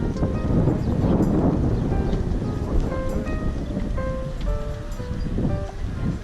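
Sea waves washing ashore along the Valencia beachfront in Spain, a steady broad surf roar with wind, mixed with faint tonal chimes or distant background sounds, no talk.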